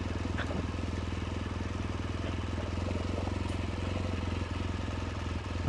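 A motorcycle runs at night on a test ride, a steady low engine drone with a fast even pulse, close and constant throughout.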